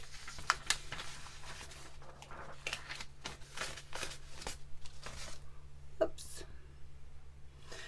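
Sheets of plain paper handled during the unboxing of an A4 light pad, with soft rustles and crisp flicks throughout and a person talking quietly over them.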